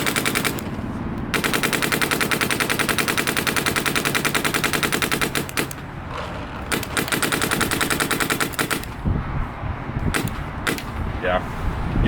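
A DLX Luxe Idol and a Shocker Era paintball marker fire in rapid, steady strings of sharp pops, loud and close, with short pauses between bursts and brief voices in the gaps.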